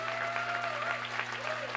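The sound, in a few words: basketball gym crowd applauding senior players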